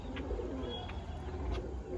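Pigeons cooing in a loft where a mated pair feeds a chick, soft repeated low coos running steadily through the clip at close range, with no talk.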